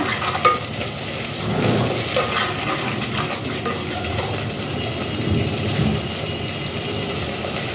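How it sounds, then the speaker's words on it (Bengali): Dried red chillies and garlic paste with black cumin fry in hot oil, a continuous close sizzle broken by occasional stirring clinks and scrapes, with no talking. "শুকনো লঙ্কা রসুন বাটা ভালো করে একটু লাল করে ভেজে নিচ্ছি"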